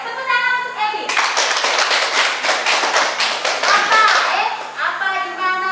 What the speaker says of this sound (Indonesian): Tepuk tangan untuk Ebi.